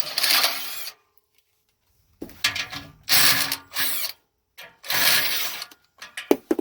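A power tool drives out 15mm exhaust bolts in several bursts of high whirring, each about a second long, separated by silences and small metallic clinks, during an exhaust system install.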